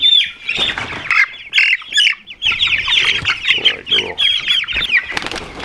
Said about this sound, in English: now let's go ahead and start bringing out the chicks